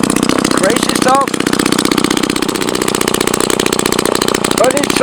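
A Jobu Tiger "Troll" chainsaw runs loud and close with a rapid, buzzing two-stroke engine note that holds steady, while a person talks briefly over it.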